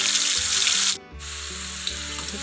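Raw banana chips frying in hot oil in a home kitchen, a loud close steady sizzle with a brief dip in the middle before the bubbling hiss resumes.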